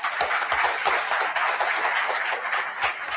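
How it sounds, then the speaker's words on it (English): Audience applause at a national law college seminar, a steady wash of many hands clapping at close range, filling the whole moment without talk. "You guys deserve a loud round of applause."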